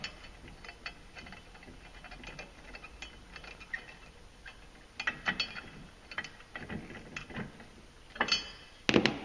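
A bolt being tightened on a clutch weight of a 2016 Polaris RZR Turbo clutch, with quiet rapid ratchet clicks and metallic ticks, growing louder in short bursts toward the end, no speech.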